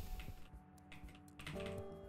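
Computer keyboard keys pressed during a session of the building-management video game Project Highrise: a few quiet, dry clicks spread over two seconds, close and faint against a low background hum, with no talking.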